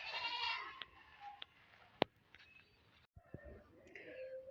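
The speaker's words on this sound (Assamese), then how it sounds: "মোৰ মাততকৈ ছাগলীজনীৰহে মানে মাতটো ডাঙৰ।" A goat bleats at home, with harmonic cries strongest in the first second, then a sharp click and softer, scattered calls and rustling. The recording is fairly quiet overall and no one speaks.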